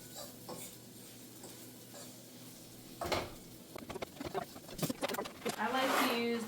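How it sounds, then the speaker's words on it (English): A spoon scrapes and clinks against a cooking pan while seasoning is stirred, with a faint sizzle underneath; the stirring grows louder and busier toward the end as a person talks. "We're gonna stir that up and let that brown up"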